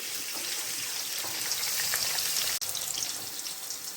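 Oil crackles and sizzles steadily in a pan of frying eggplant, a dense spatter of pops with one sharp click midway.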